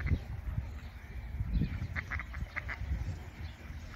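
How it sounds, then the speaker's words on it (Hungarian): Ducks quack intermittently from a short distance outdoors during a summer holiday outing, soft repeated calls over a low rumbling background. "Kacsák!"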